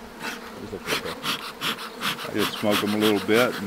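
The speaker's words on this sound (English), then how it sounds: "Now, where's the water source for these bees?" Honey bees buzz in a steady drone around a rescued backyard hive near a tree, heard close under someone talking as he smokes the bees.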